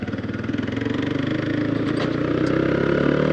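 A motorcycle engine whose start keeps cutting out throbs close by in a steady rhythmic idle, the pulsing rising slightly in loudness toward the end.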